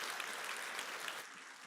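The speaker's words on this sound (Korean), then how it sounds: "우리 뜨거운 박수로 환영해 주시기 바랍니다." A church congregation applauds a medical missionary surgeon at a Sunday worship service, a dense, even wash of clapping from many hands that thins slightly toward the end.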